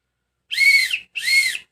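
A tour guide blows a whistle twice, two loud, clear shrill blasts of about half a second each with a short gap between, close and alone in silence.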